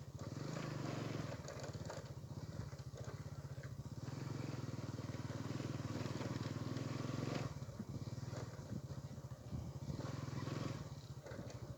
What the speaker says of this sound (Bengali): এই বাগানের ভিতর দিয়ে মোটর বাইকটা চালিয়ে ব্লগটা করছি